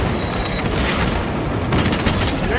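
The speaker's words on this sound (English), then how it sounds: "Deploy frag grenade!" Frag grenade blast in the Warhammer 40k Space Marine 2 video game, a dense burst of booming, crackling gunfire-like noise filling the short clip at moderate level, with a fresh swell of impacts toward the end.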